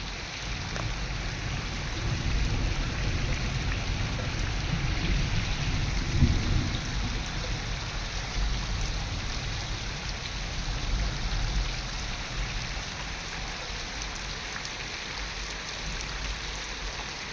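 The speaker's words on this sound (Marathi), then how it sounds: "हा पाऊस सव्वा सहा वाजल्यापासून चालू आहे आता साडेसात वाजलेले आहे तरी कोण पाऊस थांबायचं नाव घेत नाही" Heavy, steady downpour that has persisted for over an hour, soaking farmland. Dense rain noise runs throughout, with a low rumble swelling in the first several seconds and no voices.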